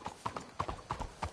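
Horse hooves clip-clop along a street in Red Dead Redemption 2, near St. Denis, in a quick, steady rhythm of sharp knocks, moderately loud and close.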